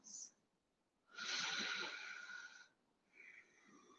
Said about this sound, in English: Take a couple more breaths.